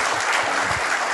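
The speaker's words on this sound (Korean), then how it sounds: "동의하시면 박수 쳐주시고 넘어가겠습니다" Applause from an audience at a business-strategy talk concert forum in a hall: a brief, dense wash of steady clapping, fairly loud and continuous, with no voices over it.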